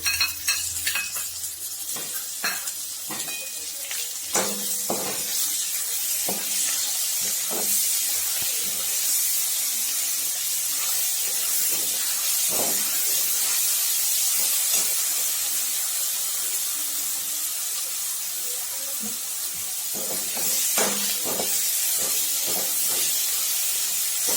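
Finely ground green chillies sizzle steadily in hot oil for rustic black urad dal, a constant close hiss with occasional crackles and stirring knocks, no voices over it.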